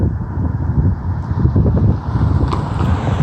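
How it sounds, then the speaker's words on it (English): Wind blowing steadily through bulrushes outdoors, a continuous loud rushing gust noise with heavy low buffeting on the microphone and no speech. "These are bulrushes, and the wind is blowing them."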